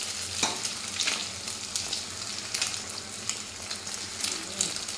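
An egg frying in a pan, a close, quiet crackling sizzle with irregular sharp spits and pops, and some light scraping mixed in, running continuously over five seconds without speech.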